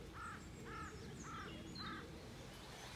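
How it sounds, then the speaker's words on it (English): Crows caw over the North Yorkshire Moors countryside, four harsh, evenly spaced calls at moderate distance above a steady rustle of wind and outdoor background noise. "just the sound of the birds and the countryside."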